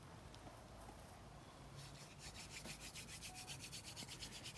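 A wooden hand drill spun between the palms for friction fire, with a little sand added for grip, gives a steady, close rubbing and grinding that turns into a fast, rhythmic rasp as the spinning speeds up.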